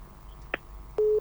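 After a call drops, a telephone busy tone sounds as one clean steady beep, preceded by a short faint click and a low line hum.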